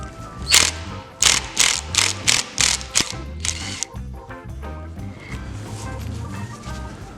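A deep 24 mm socket on a ratchet works the final transmission nut of a Puch ZA50 moped, giving several close, sharp ratcheting bursts early on, then quieter mechanical handling over a low rumble.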